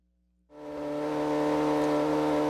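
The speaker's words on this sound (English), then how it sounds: "Red Bull's team for Formula One racing decided to put this in one of their cars and do a lap of the track" Red Bull Formula One race car on a lap of the track, its high engine note starting abruptly and holding as a loud, steady, sustained whine with no talk.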